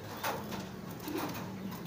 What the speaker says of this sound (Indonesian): Nah nih, ini ada merpati saya, kebetulan ini lagi ngeloloh ya teman-teman